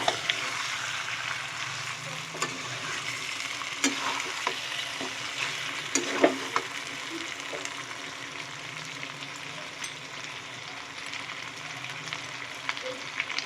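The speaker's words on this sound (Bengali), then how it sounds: "এক এক করে মশলা দেবো আর কষাতে থাকবো" Spices fried and stirred for chicken curry, a low continuous sizzle with intermittent scrapes and clicks of the spatula against the pan, fairly quiet and without talking.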